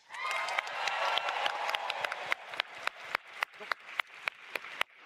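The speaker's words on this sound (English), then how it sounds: "One person clapping louder than everybody else." A convention audience at a Final Fantasy XIV Fanfest in Anaheim applauds, the dense clapping thinning out to a handful of loud, distinct claps near the end.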